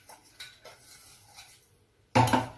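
A spoon scooping finely ground mung bean powder into a bowl, a few faint soft scrapes followed by one sharp, louder metallic clink of spoon against the bowl near the end; no talking.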